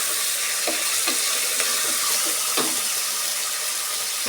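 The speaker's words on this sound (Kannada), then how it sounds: "ಈ ಟೊಮೆಟೊನ ಸ್ವಲ್ಪ ಈ ಥರ ಫ್ರೈ ಮಾಡ್ಕೊಬೇಕು" Chopped tomato frying in a pan for a rice usli dish, with close, steady sizzling and a few soft stirring scrapes and clinks against the pan, with no talk.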